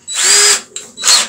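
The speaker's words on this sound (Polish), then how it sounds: "Pierwsze co robię, to od tej strony nawiercam mniej więcej do połowy długości" A power drill with a 7.5 mm bit bores into a metal guide, whining loudly and close for about half a second, pausing, then spinning up again in a second short burst.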